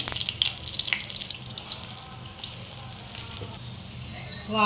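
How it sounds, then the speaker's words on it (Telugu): Ajwain-leaf bajji fritters dropped into hot oil, a bright hissing sizzle with bubbly crackles and a few splashy pops, strongest early then settling into a steady quieter fry, close by. "ఆయిల్ హీట్ అయిందో లేదో చూద్దాం హీట్ అయిపోయిందండి ఇప్పుడు వేసుకోవాలి బజ్జీలు"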